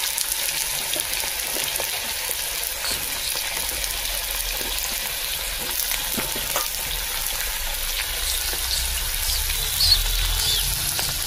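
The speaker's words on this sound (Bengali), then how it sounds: "প্রথমে আলুগুলো ভেজে নেব, আলু তেল ছিটকাচ্ছে।" Potatoes frying in hot oil in a pan, a dense continuous sizzle with crackling spatter that carries on steadily throughout, close and fairly loud with no talk.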